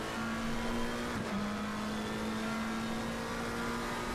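Formula 1 race cars rev hard at Imola, holding a steady high engine tone that dips briefly and then climbs again, fairly close and continuous. Faint commentary may sit underneath.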